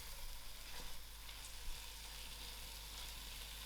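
Bottle gourd (loki) cooking on low heat for a spicy dhal, a steady, even sizzling hiss throughout with no talk.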